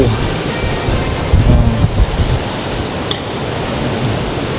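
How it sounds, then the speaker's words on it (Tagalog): Steady broadband roar of large ocean surf at a beach with a few louder swells rising and falling, no voices, wind hissing across the microphone throughout. "Ang laki ng alon eh."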